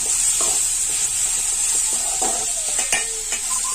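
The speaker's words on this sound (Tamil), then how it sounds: "சேர்த்து நல்லா கிண்டி விட்டுக்கிடுவோம்" Turmeric powder stirred into frying broad beans curry, a loud continuous sizzle and hiss with scattered scraping stirs of a spoon in the pan, up close.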